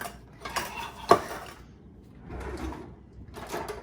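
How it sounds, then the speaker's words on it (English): Metal muffin pans are taken out in a home kitchen for baking oatmeal zucchini muffins, with a sharp clatter near the one-second mark followed by softer scraping and handling sounds, close by and fairly quiet, with no talk. "We're gonna take our muffin pans."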